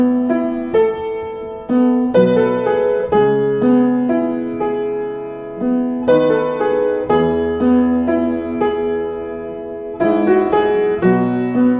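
A piano plays the instrumental part of Every Victory in E, a run of struck chords and melody notes in a steady rhythm, clear and close with no talk.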